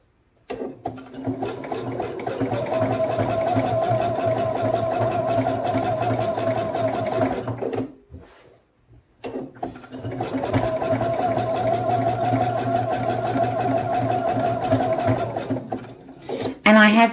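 A quilting machine stitches fabric in two long steady runs, a close, even mechanical whir with a short pause between them and a brief stop near the end.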